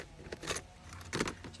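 A set of keys being picked up and handled, with two short metallic jangles close by, separated by a brief pause.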